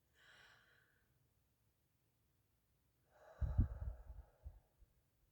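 A single deep breath, a soft inhale followed after a pause by a louder, rushing exhale, close and alone in quiet surroundings.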